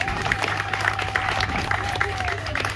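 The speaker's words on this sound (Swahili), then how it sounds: "Pigeni makofi kwake." A crowd applauds a speaker at a political gathering, steady clapping mixed with crowd noise and murmuring throughout, fairly loud and continuous.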